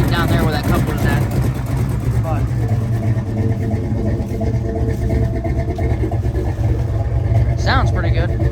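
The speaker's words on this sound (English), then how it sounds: "You can hear the exhaust leaks a little bit" A turbocharged 383 small-block Ford engine idling with a rough, puttering exhaust note from an exhaust leak at a coupler, steady and close, with a person talking over it.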